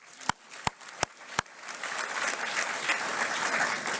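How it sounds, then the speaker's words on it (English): At a high school scholarship night, a few loud separate claps ring out near the microphone, then the audience joins in a swelling round of applause that builds to a steady, full wash of clapping. "A huge round of applause for them."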